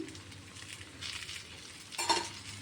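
Stuffed brinjal frying in a pan, Andhra-style, with a soft steady sizzle and a brief scrape and clink of a spatula turning the pieces near the end.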